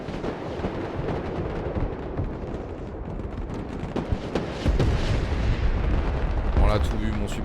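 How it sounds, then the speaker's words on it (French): Explosion of a supply vehicle in the Broken Arrow video game, a dense rumbling battle din with repeated booming blasts that swells louder partway through, with voices talking over it. "mon supply a explosé"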